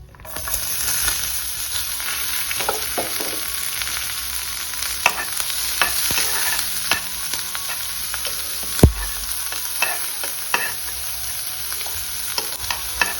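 Chopped onion and curry leaves frying in a pan for a homemade egg fry, a close continuous sizzle with repeated stirring scrapes and a sharper clack of the spatula partway through, no one speaking.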